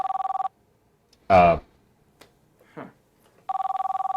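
A telephone rings with a steady electronic trill, one ring burst at the start and another at the end. Between the rings a voice speaks briefly and there are soft scattered sounds.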